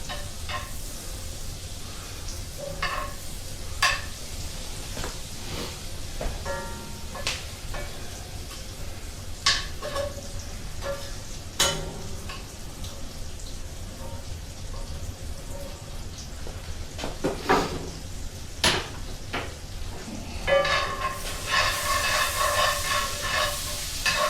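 Steak with chunks of fat sizzling in a pan, a continuous crackling hiss dotted with sharp pops and spatters that grow busier toward the end, close by with no voices.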